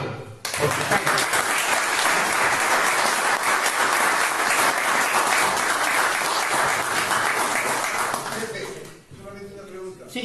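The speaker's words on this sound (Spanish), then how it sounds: "Aplauso por Sicán." Sustained audience applause at a history lecture on Batán Grande and Sicán, loud, even clapping for about eight seconds before it cuts off into quieter room sound and a voice.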